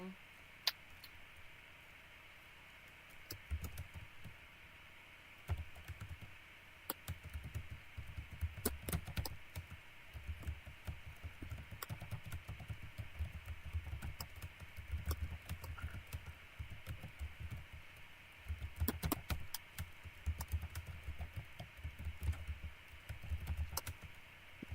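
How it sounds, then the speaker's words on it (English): Fingers type steadily on a computer keyboard, fast clustered key clicks close by with brief pauses, over a faint steady hum. "So I have to type 150 more characters"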